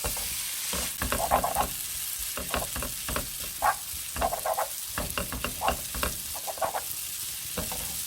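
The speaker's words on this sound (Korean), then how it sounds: "아까 볶아두었던 야채를 모두 넣고 이제 볶아주세요" Vegetables for japchae stir-fried in a hot pan, a constant sizzle with a busy, irregular run of scraping and tossing strokes from the spatula throughout.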